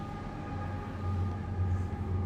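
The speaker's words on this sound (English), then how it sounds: "I have a train that's going by my open window." A train rolls past an open window, a steady low rumble with a faint tonal whine, continuous and fairly close, swelling slightly midway.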